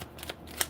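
Tarot cards being shuffled by hand, a soft papery riffle with a few brief bursts and a sharper flick near the end, close and quiet with no talking.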